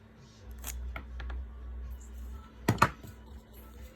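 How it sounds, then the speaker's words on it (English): Scissors cutting through a plant stem right at the petiole, with two or three soft snips early on and a louder, sharper pair of clips near the end, close by in a quiet room. "I want you to cut that stem off right at the petiole"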